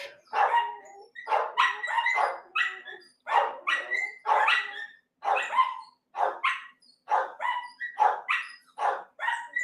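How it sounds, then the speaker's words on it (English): Several dogs bark excitedly in rapid, overlapping yips and barks, loud and close, with brief whimpers mixed in and no speech. "These are the dogs just freaking out"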